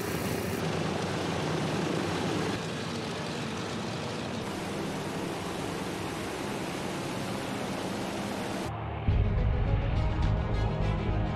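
Steady engine drone from an aircraft flying over the remote volcanic Comoros islands, a constant loud broadband roar that shifts to a deeper, heavier rumble near the end.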